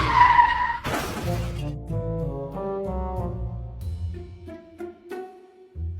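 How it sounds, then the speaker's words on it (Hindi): A motorbike rides up with a rising engine note and then skids to a stop with a gritty tire scrape, set under a busy mix of other effects. "तभी शॉन बाइक चलाते हुए इनके घर पर आता है।"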